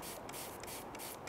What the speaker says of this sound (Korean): 이 상태에서 물을 충분히 뿌려주실게요.